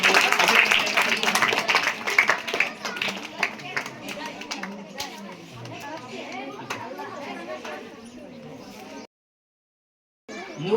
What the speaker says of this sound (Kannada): ಅವರಿಗೆ ಕೂಡ ಜೋರಾದ ಚಪ್ಪಾಳೆ.